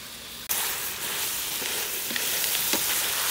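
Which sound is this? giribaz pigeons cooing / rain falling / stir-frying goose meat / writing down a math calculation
stir-frying goose meat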